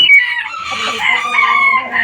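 Large Brahma rooster crowing and clucking up close, loud harmonic calls filling two seconds with no talk over them.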